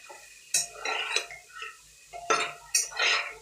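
A spoon stirs spices in a bowl for a rice dish, a few distinct scraping clinks with short pauses between strokes, close and fairly quiet.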